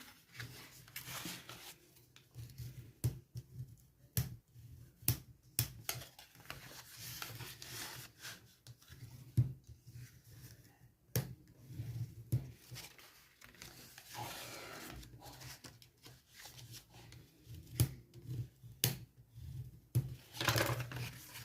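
Paper folded and creased by hand into a small Christmas gift box: quiet, close rubbing and sharp scraping presses come in irregular bursts over a soft background, with no talking.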